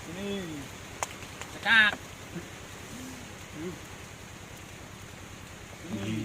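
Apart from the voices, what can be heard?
rain falling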